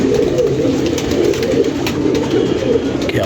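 Many pigeons coo continuously and loudly up close, their low, rolling calls overlapping into a dense, steady chorus.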